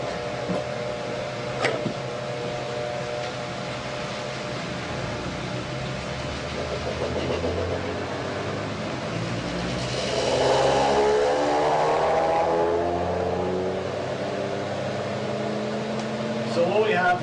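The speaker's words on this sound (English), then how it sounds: "So I'll start the generator now." A homemade generator with eight coils driven by a small electric motor runs with a steady whine and harmonic hum that rises in pitch and intensity partway through, mechanical tones layered over a faint background.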